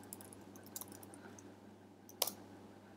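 A few faint, scattered key clicks from typing a layer name on a computer keyboard in a quiet room, with one sharper tap near the end.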